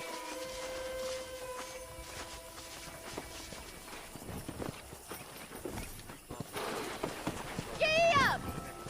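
Galloping horse hooves in Red Dead Redemption, a steady rapid clip-clop under game music and ambience, with a voice speaking over it and a louder horse call near the end.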